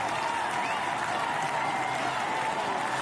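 Crowd applause and cheering at the Paris 2024 Paralympic marathon finish as an exhausted fifth-place runner nears the line, a dense, steady roar of clapping with no gaps.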